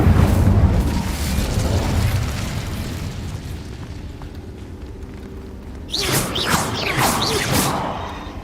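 An Incendio fire spell cast in a video game, a loud booming whoosh that fades over a few seconds, followed by a second bright crackling burst of flame.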